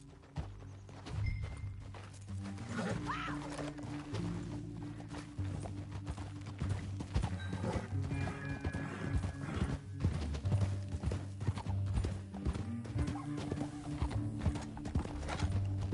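Horses gallop in Red Dead Redemption 2 in a steady, rapid clip-clop of hooves, close and continuous, over a low droning musical background.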